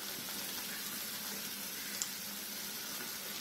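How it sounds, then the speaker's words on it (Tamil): A steady bubbling, hissing simmer from a pot of curry leaf kuzhambu on the stove, soft and continuous, heard up close with no talking. "இப்போ வந்து குழம்பு நல்லா கொதிக்குது"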